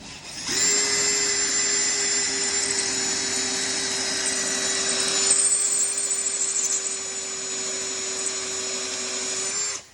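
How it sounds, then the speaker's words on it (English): Power drill boring out a rusted Jeep windshield bolt with an oiled, good-quality bit, a steady loud high whine held for nearly ten seconds, close and continuous before stopping abruptly. "you can see how easy that cuts with a good quality drill bit"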